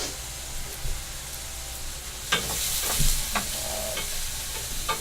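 Moussaka filling of diced peppers frying in a pan: a steady close sizzle and hiss, with scraping stirring strokes on the pan surface in the second half.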